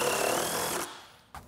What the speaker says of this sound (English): I'm gonna put a lot of screws in this because it needs to be airtight.